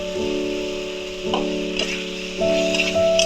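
Spiced masala frying in oil in a pan as boiled potatoes go in, a steady close sizzle with a few stirring scrapes and soft knocks, no voices.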